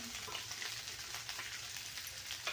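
Onion, garlic, ginger and coconut roasting in a pan for a besan dumpling curry, a quiet, even sizzle with faint crackles and no talking.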